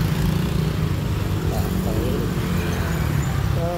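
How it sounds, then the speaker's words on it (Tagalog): Heavy road traffic rumbles past someone waiting to cross a busy street on foot, a loud continuous roar of many passing cars and engines close by. "Daming sasakyan, di ako makatawid."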